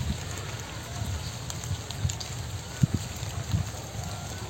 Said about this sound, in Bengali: এই বছরের প্রথম বৃষ্টি তো শুরু হয়ে গেল